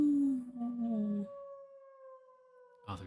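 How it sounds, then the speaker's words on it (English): A dog's long howl sound effect from the Tsukihime visual novel, rising then holding a sustained mournful tone for over a second before fading, followed by a brief burst of another sound. "Well, if there's no Nero, then why do we have black dogs? Strange cry washes over my ears like a wave"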